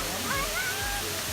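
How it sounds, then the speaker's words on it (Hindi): Kursunlu Waterfall in Antalya, Turkey, gives a steady broad rush of falling water, fairly faint, under a few brief sliding tones. "वाटरफॉल काफ़ी नियर है।"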